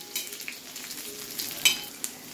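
Thin slices of dry coconut roast on a hot griddle, giving a faint sizzle with soft crackles and a few scraping stirs, with no talking.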